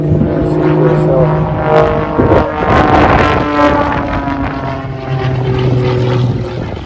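A modified aerobatic propeller plane with fuel injection and a smoke system drones past at an airshow, its engine note rising and falling loudly against wind noise, with no talking.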